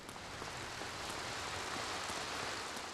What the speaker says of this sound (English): Why does it always rain in this city?